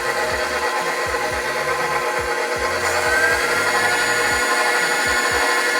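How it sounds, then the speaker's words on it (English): An electric hand mixer whirs steadily at high speed, beating melted butter and chocolate for keto brownies in an RV kitchen, with a constant buzzing tone and light rhythmic scraping thumps of the beaters against the bowl throughout. "There we go, now we're mixing."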